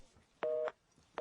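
A telephone busy signal beeps in short regular tones with pauses between them, faint and heard through the receiver.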